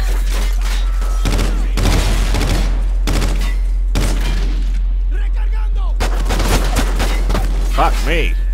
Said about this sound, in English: Good God, I'm just getting shot all kinds of ways.